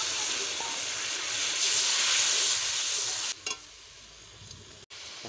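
Water tipped into a hot pan while a winter radish-and-egg dish cooks bursts into a loud, steady hiss of steam and sizzle for about three seconds, then drops abruptly to a quieter simmer, with a brief flare just after.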